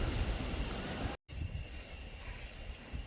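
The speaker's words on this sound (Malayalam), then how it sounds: "ഇതാണ് നമ്മുടെ മുതലമട റെയിൽവേ സ്റ്റേഷൻ" Steady low rumble and rattle of a train at Muthalamada railway station in Kerala, with a high whine overhead; no one speaks.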